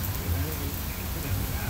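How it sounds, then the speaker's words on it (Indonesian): Heavy rain drums on a landslide-prone mountain road near Berastagi, a thick continuous wash of water noise with a low rumble underneath. "apalagi hujan deras seperti ini"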